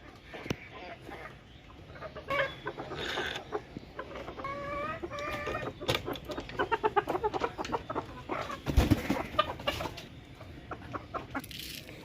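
Pet hens stream out of their coop one after another, clucking in quick irregular bursts that grow busier and louder toward the middle, with scattered sharp knocks and rustles around them.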